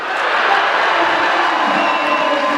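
A crowd at an IFSC bouldering World Cup semi-final in Salt Lake City screams and cheers after a climber tops a problem, a loud, continuous roar of massed voices throughout.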